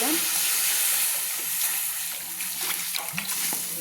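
Water goes into a hot kadai set up for boiling cut radish, producing a loud hissing sizzle that settles into a steadier bubbling simmer with small splashes and a clink or two.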